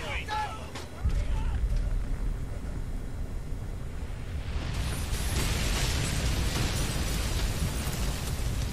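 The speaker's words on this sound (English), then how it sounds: "Incoming! What? Run! What is it? Tactical nukes, God damn it!" Tactical nukes go off in the Frontlines: Fuel of War video game as a huge, sustained roaring blast that builds and swells across the whole clip, loud and rumbling, with no clear speech above it.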